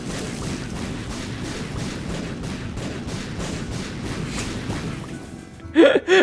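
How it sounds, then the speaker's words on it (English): A rapid, sustained chain of explosions in The Binding of Isaac: Repentance forms a dense, rumbling barrage. It stops abruptly near the end, where a brief vocal gasp is heard. "That was 16 explosions, by the way."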